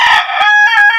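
A farm rooster crows loudly and close by in one sustained call, with no other sounds around it.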